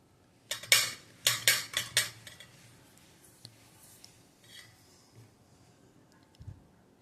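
A spoon clinks and scrapes against a pan in a quick burst of strokes while sugar syrup thickens for double ka meetha, then settles into faint occasional taps; close and quiet, with no talking.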